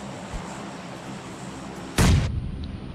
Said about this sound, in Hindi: इसलिए मैंने बम फेंका इस घर में, रेड वाले पे